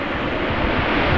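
Airliner thrust reversers roaring on a crosswind landing at Amsterdam Schiphol, a steady, dense, loud broadband rumble with wind buffeting, with no talk.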